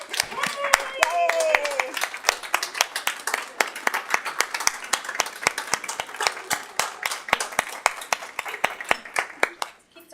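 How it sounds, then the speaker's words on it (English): Steady applause from an audience at a school board of trustees public meeting during an award presentation, with many rapid overlapping claps lasting the whole stretch and a voice briefly heard near the start. "we're clapping again. We love to clap."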